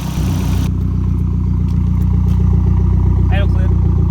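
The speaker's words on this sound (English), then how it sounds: "right now the car's sitting here idling" A Dodge Omni GLHS or Spirit R/T drag car, a turbocharged engine, idles with a loud, steady low rumble and rhythmic clatter throughout, while someone talks over it close by.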